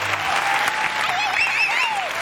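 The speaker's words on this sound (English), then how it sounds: "an applause for the whole team." Brief audience applause for a team at the Falling Walls 2019 joint award ceremony, held at the Futurium, a steady wash of clapping with tonal whistles or cheers rising above it.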